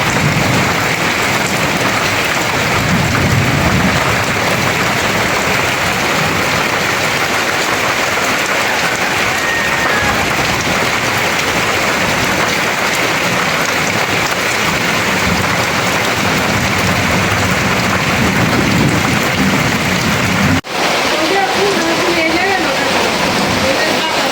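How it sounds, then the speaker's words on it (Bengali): Heavy rain pours down during a home flood, a loud, continuous broadband roar of water drumming on surfaces that barely varies over the whole stretch, with a brief dip near the end. "ভাই যে বৃষ্টি শুরু হয়েছে"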